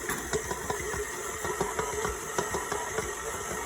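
A stand mixer's paddle kneads bread dough for a sandwich loaf, giving a steady mid-pitched motor hum with soft regular thumps as the dough slaps around the bowl. Close and continuous, with no talking.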